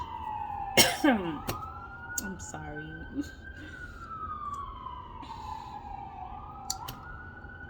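An ambulance siren wails through a city near a hospital, a long wavering tone that slowly rises and falls in the distance while a person nearby speaks and coughs over it.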